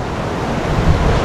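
Sea waves wash below a cliff top at Sozopol, Bulgaria, in a loud, steady roar mixed with wind buffeting the microphone.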